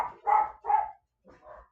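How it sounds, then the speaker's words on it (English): A dog barks several times in quick succession nearby, two loud barks then a pause and softer follow-up barks. "Sorry about the barking, y'all."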